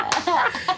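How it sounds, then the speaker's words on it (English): A single sharp thigh slap lands loud and close, a brief smack quickly swallowed by a short burst of speech-like sound. "The thigh slap heard around the world."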